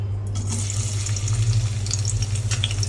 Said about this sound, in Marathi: आता दोन चमचे तेल टाकलंय ते तापलंय चांगलं आता कांदा टाकते